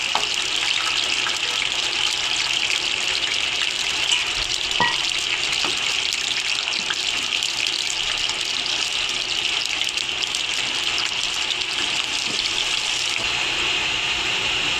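Two dried red chilies and finely chopped garlic sizzle in hot oil for a tadka for chicken palak, a steady, loud, close hiss that runs unbroken and without talk for the whole span, shifting slightly near the end.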